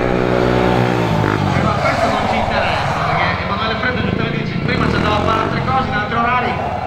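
A stunt motorcycle revs hard and loud while the rider pulls a wheelie with crossed legs at a Motodays Roma stunt show, the engine note rising and falling continuously under a commentator's voice.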